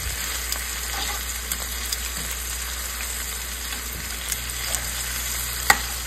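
Lemon garlic butter lamb chops fry in a pan with a steady, close sizzle and crackle, occasional small pops and spatters rising over the continuous frying hiss.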